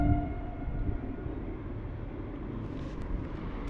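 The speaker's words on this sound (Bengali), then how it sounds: "মাল ট্রেন লানে পুরো লম্বা লম্বা" A long freight train rolls past close by with a steady, dense low rumble that holds throughout, no voices present.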